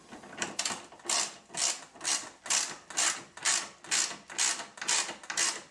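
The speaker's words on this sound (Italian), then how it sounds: "posso inserire tranquillamente la boccola e quindi col doppia chiave andarla a chiudere tranquillamente" Double wrench ratcheting a bolt through a bushing on a loft bed frame, a steady series of about ten rhythmic ratchet clicks and metallic turns, close and clear with no talk.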